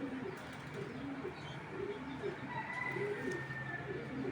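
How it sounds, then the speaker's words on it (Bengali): A female racing pigeon coos in a steady, repeating rhythm of low throaty phrases, fairly close, over a constant background hum. "দেখেন মাদি কবুতর,"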